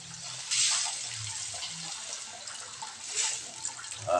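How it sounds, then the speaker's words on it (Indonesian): Water poured into a cooking pot for a village-style breakfast, a soft continuous splashing stream that swells twice, fairly quiet and close with no talk over it. "Baru kita masukkan airnya ya."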